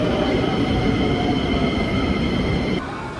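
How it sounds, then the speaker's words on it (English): A train at a Hong Kong station roars steadily with loud rumbling wheels and a high metallic whine, then drops in level near the end. "I am currently waiting for my train at the train station."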